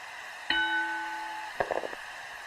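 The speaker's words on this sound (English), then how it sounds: "Bell sounds, action's underway." Wrestling ring bell at Madison Square Garden in a classic 1980s WWF pro wrestling game, one sharp metallic ding with a long sustained ring, followed by a brief cluster of softer clattering knocks.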